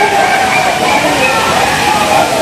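Water at the Courtallam Aintharuvi waterfall crashes down in a loud, continuous roar of rushing spray, steady and close throughout, with possible crowd voices blending into the wash.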